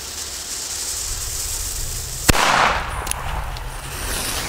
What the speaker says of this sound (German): Für deutsche Böller, ne?